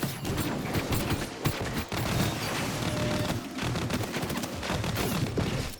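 Rapid gunfire crackles in Destiny 2 as enemies are cleared in the Deep Stone Crypt, dense bursts of automatic shots and impacts overlapping continuously throughout.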